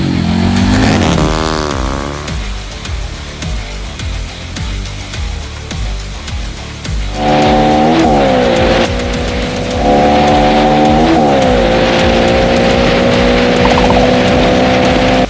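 A motorcycle leaning through curves on a road, its engine droning loud and close with rising and falling revs as it accelerates out of bends, and no talking.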